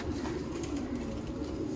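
Pigeon cooing at a pigeon keeper's loft, a soft continuous low coo close by that holds steady throughout without pause.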